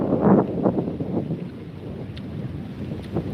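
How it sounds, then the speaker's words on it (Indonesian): Strong wind blows outdoors, buffeting the microphone with loud gusty rumbling that is strongest at the start and then settles into a steady roar. "Wih, anginnya gede amat"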